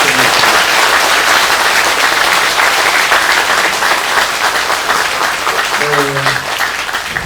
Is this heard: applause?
yes